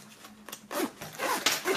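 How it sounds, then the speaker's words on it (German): Velcro hook-and-loop fastener on a hidden back compartment of an 18 Karat Brutal Box being pulled open, a few close, loud rasping rips in quick succession with no talking. "Dieses nicht mit Reißverschluss, sondern hier mit Klettverschluss zuzumachen."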